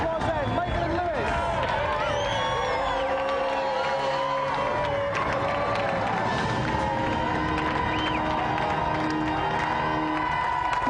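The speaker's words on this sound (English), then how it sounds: "Let's have another round of applause then" A studio audience at the Gamesmaster TV show cheers and applauds loudly and continuously, with whoops and crowd babble, while a presenter talks over the noise.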